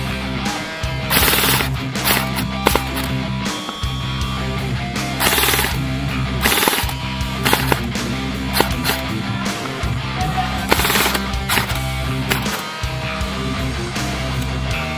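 Airsoft guns fire in rapid, sustained bursts during an outdoor airsoft game, with overlapping volleys of sharp snaps close by across the whole stretch.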